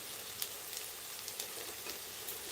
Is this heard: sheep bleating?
no